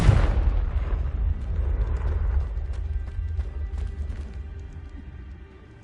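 Confringo fire spell explosion in the video game Hogwarts Legacy, a loud sudden blast followed by a rumbling, crackling decay that fades over several seconds.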